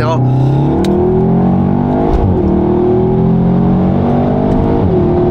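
A car engine runs loud and close, its pitch rising as it revs, with a slight dip and climb partway through.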